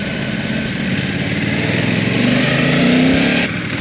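A 2025 Honda NT 1100 touring motorcycle cruises along, its engine a steady, loud drone with wind noise that rises slightly in pitch as it gently accelerates.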